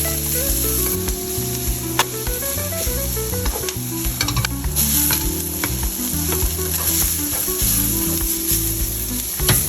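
Garlic and onion sizzle steadily in a clean pan for kare-kare with beef, a constant frying hiss with occasional stirring, partly covered by a loud melodic music bed throughout.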